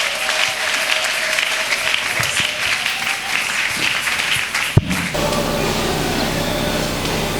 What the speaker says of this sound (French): nous l'accueillons avec des acclamations